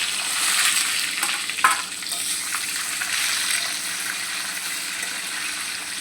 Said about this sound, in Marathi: आता आपण यात ही भरलेली वांगी तेलामध्ये मस्त अशी फ्राय करून घेऊया